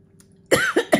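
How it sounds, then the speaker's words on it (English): Someone coughs three times in quick succession after eating a cashew, close and abrupt, following a brief quiet moment. "I was coughing from the cashew."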